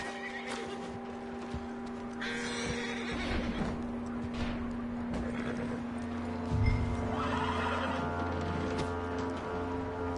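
A horse in a video game whinnies loudly several times amid clip-clopping hooves and faint rain, with no talking.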